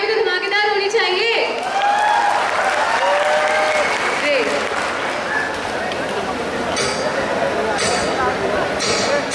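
Loud, sustained audience applause greeting a dance performer's entry at an event, a dense wash of clapping with cheers and whistles carrying through.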